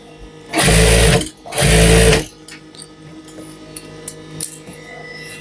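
A sewing machine stitches along a jacket zipper in two loud, close bursts of fast whirring, followed by quieter clicks and handling of fabric and the machine.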